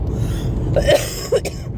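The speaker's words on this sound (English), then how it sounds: "I apologize for all of the coughing that you are hearing in those videos." Two or three short, rough coughs break through a steady low background hum, close to the microphone with brief pauses between them.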